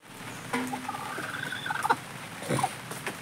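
A broody hen sitting on a clutch of eggs gives soft, scattered clucks and low calls, close by and fairly quiet, with some light rustling in between.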